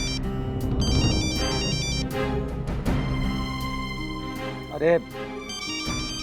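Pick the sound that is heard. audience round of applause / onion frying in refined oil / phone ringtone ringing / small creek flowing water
phone ringtone ringing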